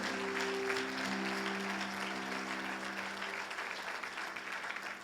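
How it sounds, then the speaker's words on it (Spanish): A church congregation gives steady, sustained applause, a dense wash of many hands clapping at once, with faint sustained tones running beneath it for the first couple of seconds. "alguien déle un aplauso a Dios"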